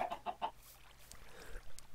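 Minecraft chicken clucking in a short rhythmic series of four quick clucks, followed by a quiet stretch and an abrupt loud in-game noise at the end.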